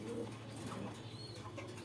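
Soft, low cooing from racer pigeons held for sale in Gazipur, Dhaka, a faint, steady murmur close by with a few brief higher calls and no talk.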